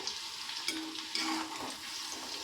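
Raw banana finger chips frying in hot oil, a steady close sizzle with soft bubbling that runs throughout.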